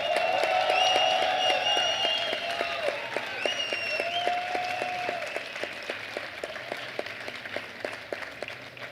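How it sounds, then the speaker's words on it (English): Applause at an international elite marathon press conference in Valencia, a sustained crowd clapping that is loud at first and then slowly tapers off. "Big applause for Kenenisha Bekele."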